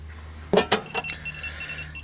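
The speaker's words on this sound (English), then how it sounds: "here comes the beeping" An SEC E9 key cutting machine working an LF31R key gives off thin, steady electronic beep tones after a couple of sharp clattering clicks, fairly quiet and close with no talking.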